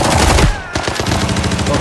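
Dense automatic gunfire in the shooter game Arena Breakout rattles loud and close, with rapid bursts on either side of a short break.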